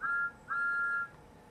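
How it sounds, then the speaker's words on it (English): A toy train engine's whistle from a Thomas the Tank Engine story sounds in two steady, clear tones, the first lasting about a quarter second and the second longer, alone and fairly close. "the two engines heard a whistle"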